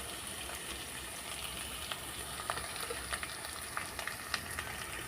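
Ginger and turmeric spices frying in a pan for a village-style boti curry, giving a steady, soft sizzle with faint crackles and occasional small pops throughout.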